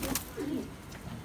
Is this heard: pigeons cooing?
yes